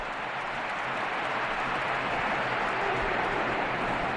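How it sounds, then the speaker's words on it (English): Stadium crowd at the Bernabeu during a football match, a steady broad wash of applause and crowd noise, distant and sustained, with no individual voices standing out. "A round of applause for the hero of the Bernabeu, Cristiano Ronaldo"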